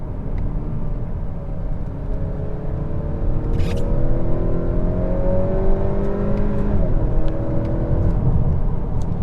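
A 2021 Honda Accord 2.0T Touring turbo engine pulls hard along a back road, with steady rising revs and a drop at a brief gear change. The engine note then climbs again under a constant road rumble.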